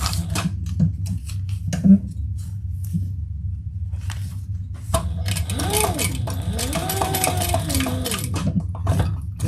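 Sewing machine putting a few stitches into the corner of a sewn piece, with short mechanical whirring bursts and clicks, busier and more continuous in the second half, under some quiet talk.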